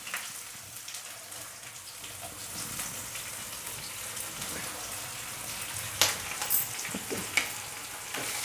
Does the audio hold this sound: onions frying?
yes